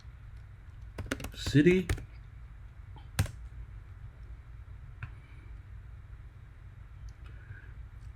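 Brief bursts of typing on a computer keyboard, a quick cluster of clicks followed by a few isolated keystrokes, close and fairly quiet, with a person talking briefly over a low background hum.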